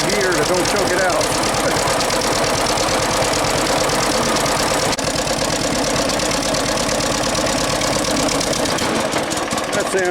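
A John Deere LA tractor engine runs loud and close with a dense, rapid chugging rhythm, and voices are faintly mixed in beneath it.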